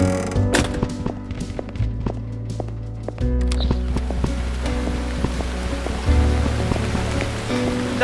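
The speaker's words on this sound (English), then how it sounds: "Bloody rain." Steady rain pattering on surfaces in the horror game Burnhouse Lane, a dense continuous hiss running throughout, with deep droning tones and scattered sharp knocks layered over it and no talking.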